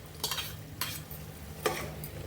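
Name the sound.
stirring soaked chana dal into elephant foot yam dish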